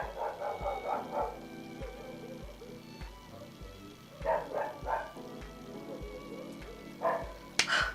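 Dogs barking in short bursts of several barks, separated by pauses, over a steady rhythmic low thumping in the background.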